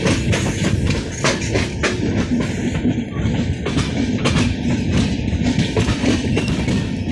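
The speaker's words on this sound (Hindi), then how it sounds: "तो इस वक्त ट्रेन पूरी तरीके से मुड़ते हुए और ये आ गया रुड़की का रूट।" An AC LHB passenger train rolls over the rails while taking a wide curve near Luxar toward the Roorkee route, with rhythmic clickety-clack wheel beats and rumble heard from inside, steady and fairly loud, no talking.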